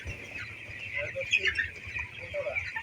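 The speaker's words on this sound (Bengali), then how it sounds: "মানে মুরগি আছে পনেরোটা সাড়ে দশ কেজি" Seventeen-day-old broiler chickens in a shed cluck and chirp in soft, scattered bursts, heard close but fairly quiet beneath people talking.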